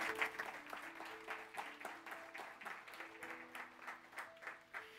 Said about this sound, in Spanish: Dele un aplauso al Señor, por favor